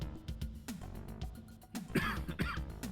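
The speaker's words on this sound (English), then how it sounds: "I heard a cough." A single cough and throat clearing come through online voice chat during a livestream of the Police Quest II game, a few short rough bursts close to the microphone.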